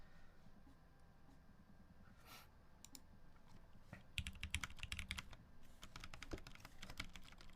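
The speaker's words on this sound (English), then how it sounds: "Type test, but you guys can't see the type test. All you guys see is the keyboard." Computer keyboard typing during a typing test, with a sparse start and then a dense, fast run of close, crisp key clicks over a steady background hum.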